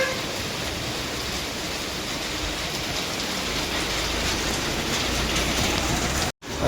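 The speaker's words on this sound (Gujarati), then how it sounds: "અચાનક આવી ગયું વાવાઝોડું." Steady rain pouring down during a sudden storm, a dense, even hiss that fills the whole scene without letup, with a brief dropout near the end.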